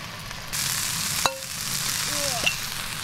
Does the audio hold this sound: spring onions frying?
yes